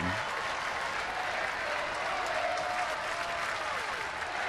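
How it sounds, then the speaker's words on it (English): Royals fans at a baseball game keep up steady, loud applause and cheering from a large crowd, a continuous wash of clapping with no gaps. "They are up cheering for the Moose."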